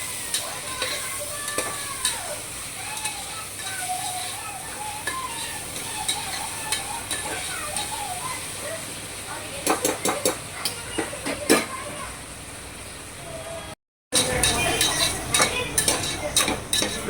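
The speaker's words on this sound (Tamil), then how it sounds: "தக்காளி நல்லா வதங்க விடுங்க." Tomatoes sauté in a pan for homemade tomato biryani, sizzling steadily with repeated scraping stir strokes and light clinks of a utensil against the pan, close and continuous with a brief cut near the end.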